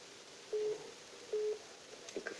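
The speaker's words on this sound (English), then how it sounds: "The phone now ring like busy" A telephone busy signal sounds faintly as two short, even tones with a pause between them, thin and distant over quiet line hiss.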